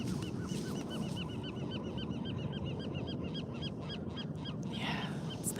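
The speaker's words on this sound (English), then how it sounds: "just a few water birds with me." Water birds, probably geese, honk and call repeatedly by a quiet bay on an outdoor morning walk, a steady chorus of overlapping calls over low wind and ambient noise.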